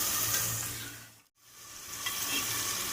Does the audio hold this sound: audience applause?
no